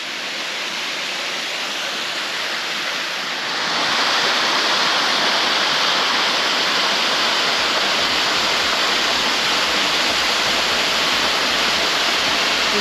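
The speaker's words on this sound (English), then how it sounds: "And here we are, at the falls." Waterfall near Strahan and Queenstown in Tasmania, its tannin-brown water pouring down in a steady broadband roar that swells louder after a few seconds and then holds constant, close and alone with no voices.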